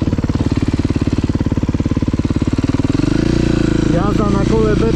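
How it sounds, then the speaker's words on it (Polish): A Beta 350 motorcycle rides close by with a steady pulsing engine note that rises as the throttle opens, running loud throughout while a voice is heard briefly over it near the end. "Jazda na kole Beta 350."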